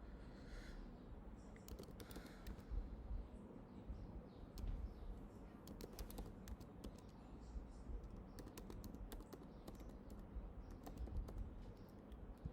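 Faint, quick clicks of typing on a computer keyboard while an email address is entered, irregular bursts of keystrokes over a quiet room hum, with no voice.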